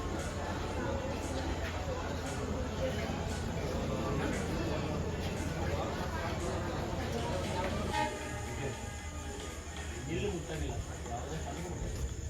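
A passenger train rumbles steadily nearby at a busy station with a continuous mechanical drone and clatter, voices murmuring faintly underneath.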